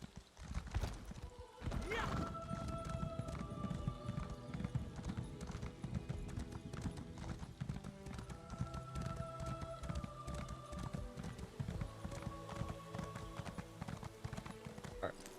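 Steady horse hoofbeats clip-clop along at a trotting rhythm in the video game Elder Scrolls Online, with game music and occasional voices layered over the top.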